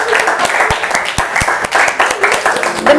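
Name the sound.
applause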